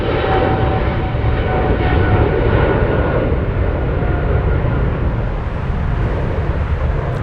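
A China Eastern Airlines Boeing 777-300ER at Frankfurt Airport gives off a loud, steady jet roar with a deep rumble and no letup, close by and heard on its own.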